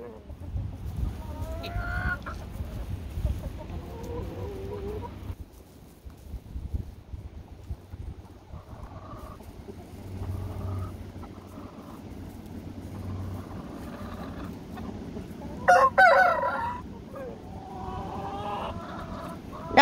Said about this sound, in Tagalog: Nakakatuwa din itong mga manok guys